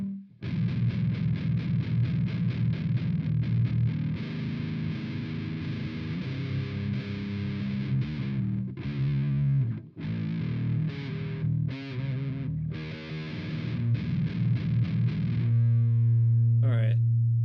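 Electric guitar played dry with reverb and both pedals switched off, sustained heavy chords strummed continuously with brief choked pauses and a fast picked run near the end, loud and close.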